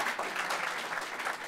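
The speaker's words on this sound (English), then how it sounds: "so keep clapping" Applause from a crowd at an expansion ceremony for a company in Sandy, Utah: dense, steady clapping close by, unbroken and fairly loud throughout.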